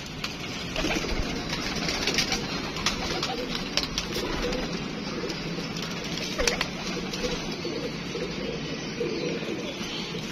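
A female Khokhar pigeon coos in soft, repeated throaty calls, close by over a steady background hum, with little else heard.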